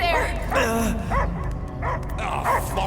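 A dog barks in the video game Guardians of the Galaxy, several short, sharp yips and barks in an uneven rhythm, close and fairly loud, heard over people speaking and background game sound.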